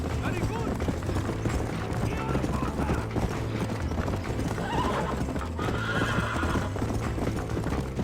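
Hooves clip-clop rapidly in a steady galloping rhythm, with whinnies and neighs over a busy mechanical game soundscape and some voices, in Red Dead Redemption on PS5.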